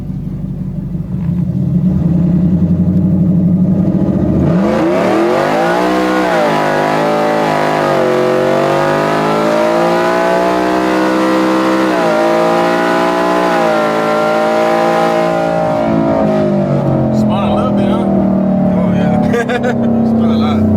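A 2021 Ford F-150 pickup with a 3.8 pulley, running 91 octane, revs hard on a dyno, its loud engine note climbing and holding for about ten seconds before winding down, with talk in the background.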